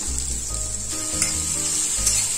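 Pointed gourd and potatoes hit hot oil with onion and green chillies, giving a loud, continuous close-up sizzle with brief stirring scrapes.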